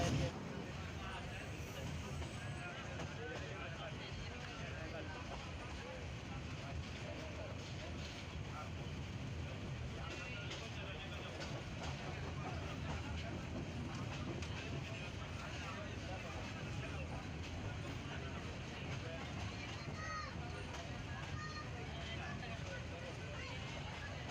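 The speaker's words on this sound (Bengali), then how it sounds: "কিশোরগঞ্জ অভিমুখী যার ট্রেন নাম্বার সাতশো সাঁত্রিশ এগারো সিন্ধু প্রভাতী" Egaro Sindhur Provati, train number 737 bound for Kishoreganj, runs on rails near a branch of the Meghna River. Its continuous heavy rumble and wind roar hold steady throughout, with faint voices blending into the noise.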